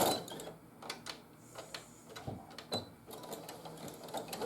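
A sewing machine back stitching along a quilted table runner, heard as short irregular bursts of clicking, needle-driven rattle with brief pauses between runs, fairly quiet and close.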